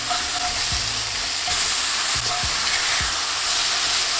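Smash burger patty sizzling loudly and steadily on a hot griddle just after being flipped, with a few sharp scraping knocks from a spatula breaking through the constant frying hiss.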